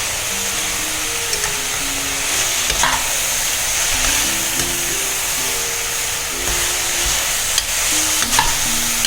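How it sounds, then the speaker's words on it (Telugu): Beetroot fries in a pan with fresh curry leaves, giving a loud, steady sizzle with a constant hiss and occasional stirring scrapes, no voices. "బీట్రూట్ చాలా త్వరగా ఫ్రై అవుతుంది కదా"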